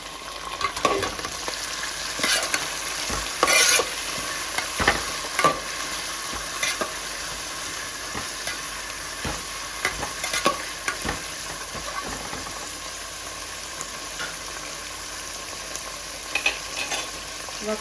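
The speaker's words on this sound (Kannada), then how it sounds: "ನೆಕ್ಸ್ಟ್ ನಾನೀಗ 2 ಮೀಡಿಯಮ್ ಸೈಜ್ ಕಟ್ ಇಟ್ಕೊಂಡಿರೋಂಥ ಟೊಮೆಟೊ ಹಾಕ್ತಾಯಿದ್ದೀನಿ" Chopped tomatoes, two medium ones, fry and get stirred in a home kitchen pan, with a steady sizzle punctuated by frequent scraping clacks of the spoon against the pan. The sound is close and continuous, with no talking.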